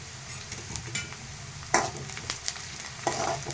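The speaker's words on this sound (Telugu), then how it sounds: "ఆనియన్స్ దూరగా వేయించుకోవాలి" Onions and curry leaves frying in oil with mustard seeds in a pan, a close steady sizzle broken by scraping spatula strokes and occasional clinks of utensil against the pan.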